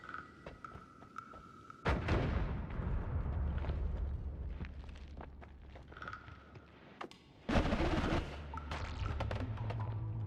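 Bombs blasting with an electric bounce effect in the video game Noita, two heavy booming bursts with long rumbling tails and crackling debris between them, loud and close, no voices.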